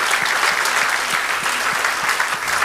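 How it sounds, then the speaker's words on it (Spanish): A church congregation claps together during a sermon, a loud, sustained wash of many hands applauding close around, with no speech over it. "Denle un aplauso al Señor."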